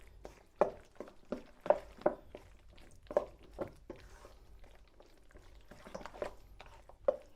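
Fish pie mixture with spring onions stirred by hand with a spoon in a bowl, giving soft, irregular squishy scrapes and taps, quiet and close, with no talk.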